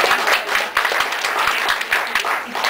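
A comedy-club crowd answers a comedian with applause, a close, lively burst of clapping mixed with some cheering and crowd noise that stays steady for a few seconds.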